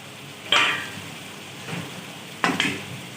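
Fried potato pieces are tipped into a hot pan of toasted spices, producing two sharp clatters and hissing bursts with a quieter stir between them, close and without speech.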